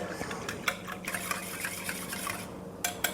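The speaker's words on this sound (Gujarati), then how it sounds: "આપણે એ રીતે મિક્સ કરી દેવાનો છે ચણાનો લોટ" A spoon stirs gram flour into kadhi in a pot, making a steady soft liquid swishing with faint scraping and occasional light clinks against the metal, with no talk.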